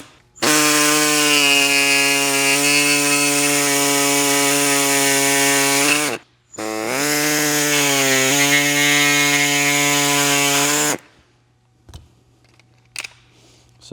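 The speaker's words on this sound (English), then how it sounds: "we'll take an air saw, which I'm gonna show you guys, and I'll go in here and I'll cut all this stuff out" Air saw cutting out material inside a Harley motorcycle bag, a loud, steady high-pitched buzzing drone in two long runs broken by a brief pause, then near silence with faint clicks.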